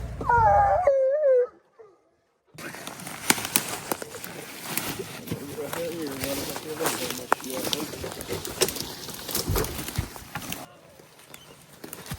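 Hunting dogs out in the woods during a bear hunt let out a brief wavering howl at the start, then distant yelps and bays mix with rustling, wind and outdoor movement for the rest of the stretch.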